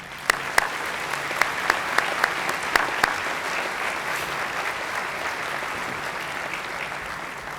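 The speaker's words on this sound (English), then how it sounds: "Please join me in a round of applause for them." A sustained round of applause from a breakfast-event audience for award nominees: dense, even clapping at moderate distance with a few sharper claps standing out early, continuing unbroken without speech.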